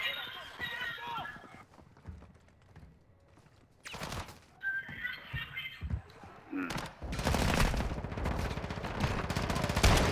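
Gunfire in the video game Call of Duty DMZ crackles in scattered bursts, with a denser volley of shots toward the end, while players talk over it.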